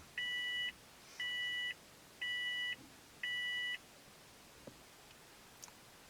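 A LAMTTO 7-inch CarPlay screen plugged into a car's cigarette lighter beeps four times at an even pace as it boots, clear and close, followed by quiet background hum.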